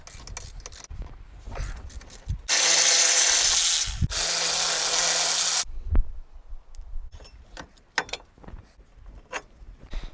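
Impact wrench or power tool spinning off the 17mm caliper bolts on a Toyota brake, with a loud sustained whirring burst lasting about three seconds, then scattered clanks and handling knocks of tools and parts.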